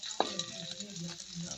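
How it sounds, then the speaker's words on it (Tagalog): Ginger sizzles in a pan with a steady, close hiss while a spoon stirs it. One sharp knock is heard early on, and a voice murmurs faintly underneath. "Ilagay ko na yung luya. Haluin lang ng konti."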